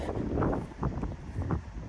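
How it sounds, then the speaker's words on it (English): Strong wind roars steadily outdoors in British Columbia mule deer country, buffeting the microphone with low rumbling gusts that rise and fall throughout. "It's way too windy."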